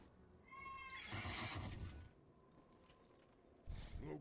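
A horse in World of Warcraft gives a sharp whinny, then a quick run of hoofbeats, with a second brief snort and clatter near the end, all fairly quiet.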